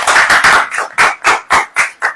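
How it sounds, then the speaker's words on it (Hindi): Audience clapping hard during a Hindi church sermon, a rapid burst of loud applause that settles into about six sharp, evenly spaced claps near at hand. "ताली बजाइए कसके"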